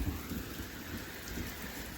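Heavy rain pours down steadily with a low rumble of thunder beneath it, a dense, continuous hiss of drops close by and nobody speaking.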